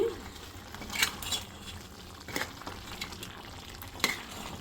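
Chicken curry simmering and bubbling in a pan, with soft stirring scrapes and a few sharper clinks standing out against a steady low cooking hiss at close range.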